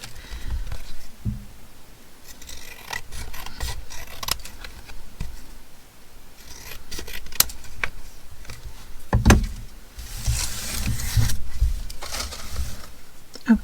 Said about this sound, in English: Now I'll just cut the excess paper off.